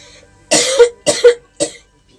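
Three sharp coughs in a row, close and fairly loud, with short pauses between them and no talking.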